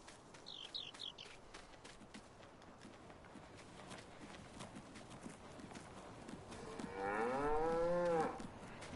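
Angus cattle mooing on a farm in the Farming Simulator 19 video game, with a loud, drawn-out moo close by near the end, over steady ambient farm background and some faint high chirps early on.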